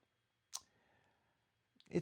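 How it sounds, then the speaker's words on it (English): A Yaesu FTX1 amateur radio gives off a sharp click followed by a thin, steady tone, then another burst of clicking near the end. Both are close and fairly quiet. "Most radios do not have that clicking and the tone."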